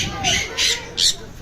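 Three loud, harsh parrot squawks in quick succession, each short and rasping, close by with a little background noise between them.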